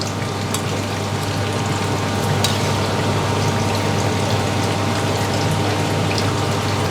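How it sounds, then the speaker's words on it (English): Cold water poured into a pot or bowl while preparing a bitter ingredient, a steady continuous splashing wash with faint drips, fairly close and without talk. "Put in the cold water."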